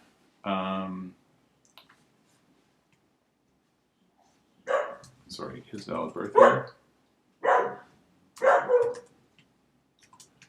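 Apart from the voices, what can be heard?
dog barking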